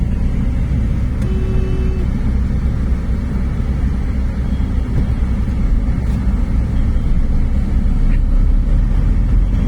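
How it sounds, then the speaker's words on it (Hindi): A car air conditioner blows with a steady, loud whooshing hum inside the vehicle, unbroken throughout with no voices. "एसी बंद करो, एसी की आवाज आ रही होगी बीच में।"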